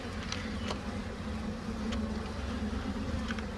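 Honeybee foragers swarm around a box holding a small swarm being caught for a mating cube, giving a steady, close, droning buzz with individual bees briefly flying past.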